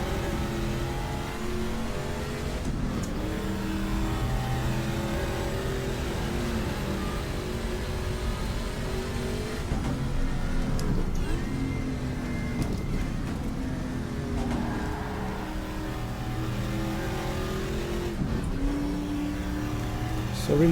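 Race cars roaring around Österreichring in the sim racing game GTR2 during a 1,000 km endurance event, with steady loud engine drone and shifting revs throughout, a few brief dips as cars pass or change gear.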